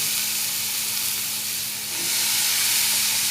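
Ridge gourd frying in a pan for a quick Maharashtrian vegetable dish, giving a steady, fairly loud broadband sizzle and hiss that swells briefly near the end, with no talking.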